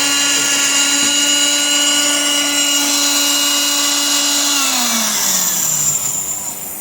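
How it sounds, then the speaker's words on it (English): A drill press drilling metal whines at a steady high pitch, then slows and drops in tone as it winds down; loud and close. "Good old drill press."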